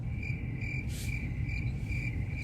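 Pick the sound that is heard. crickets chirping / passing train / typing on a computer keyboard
crickets chirping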